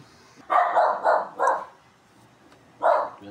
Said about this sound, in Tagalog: Galit yung aso, may tao sa taas yata.